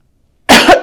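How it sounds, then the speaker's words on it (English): A single short, sharp human cough bursts out after a silent pause, close and loud, followed by the start of a second. "I'm sorry about that cough."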